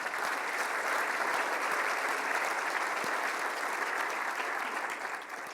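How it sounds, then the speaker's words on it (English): A large conference audience in Las Vegas breaks into sustained applause after a speech line, an even roar of many hands clapping that stays loud throughout and begins to fade near the end. "That deserves a round of applause."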